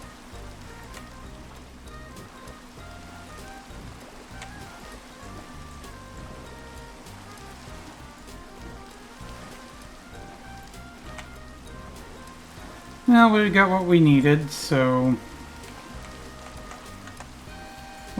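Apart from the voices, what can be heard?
rain in the video game Minecraft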